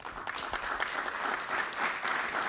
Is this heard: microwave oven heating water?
no